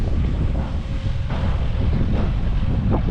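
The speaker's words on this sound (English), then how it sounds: "It is getting windy out here at this job." Steady wind buffets the microphone at an outdoor barn construction site with a loud, low roar that continues for the whole stretch, with no voices.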